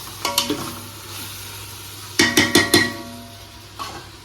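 Ginger garlic masala sautéed for prawn biryani, with clusters of sharp spatula scrapes against the pan, a quick pair early, a rapid run of four near the middle and one more at the end, over a faint sizzle.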